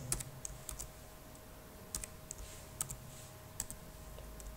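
Keys clack on a computer keyboard while typing into the Maple math program, a handful of sharp, quiet, close taps in small irregular bursts over a soft steady hum, with no talking.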